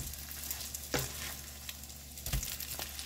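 Veggie cakes fry steadily in a pan, giving a continuous crackling sizzle with two brief louder bursts of spattering, close and fairly quiet with no talking.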